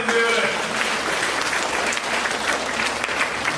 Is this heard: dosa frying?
no